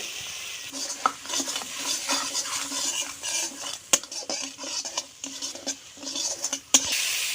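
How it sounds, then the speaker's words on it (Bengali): Dried chili paste with a little water is stir-fried together with water lily stems and small fish, producing a quiet sizzle under repeated scraping and clinking of a utensil against the pan, with a few sharper knocks. "ঝালটা কষে নিচ্ছি"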